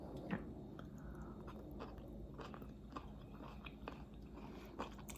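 Faint, close crunchy chewing of wood ear mushrooms, with soft repeated crisp bites at an irregular pace over a low background hum.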